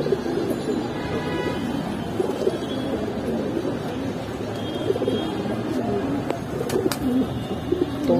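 A large male white Baghdadi homa pigeon at Kaptanbazar pigeon market coos repeatedly in low throaty phrases amid market chatter and background noise.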